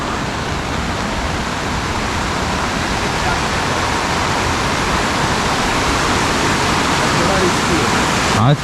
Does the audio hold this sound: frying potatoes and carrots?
no